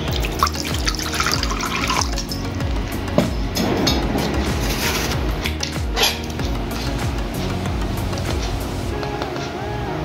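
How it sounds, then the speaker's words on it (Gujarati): Water pours from a tap or jug into a bowl during preparation of besan papdi dough, making a continuous close splashing stream with small clatters and gurgles throughout. "થોડું પાણી"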